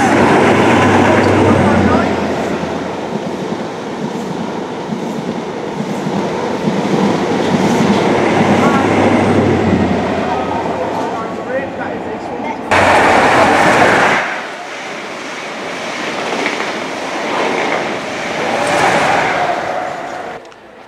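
A train gets under way on a line in the Golden Valley, its loud engine rumble building and then running on with clattering wheels. The noise briefly swells sharply partway through before settling back.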